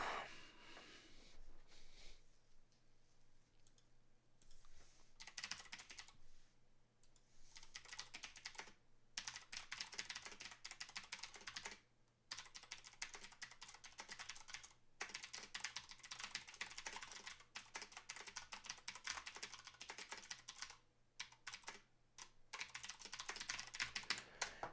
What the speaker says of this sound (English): I'm typing stuff in chat so that you can actually see it.